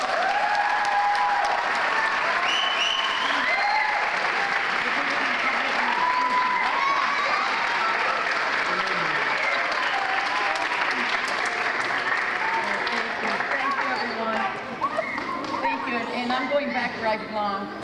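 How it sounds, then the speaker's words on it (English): Audience applause fills an academic awards ceremony, a long continuous round of clapping with a faint tonal sound early on and some voices mixed in toward the end. "a huge round of applause"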